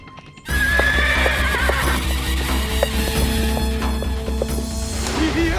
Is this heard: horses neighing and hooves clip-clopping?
yes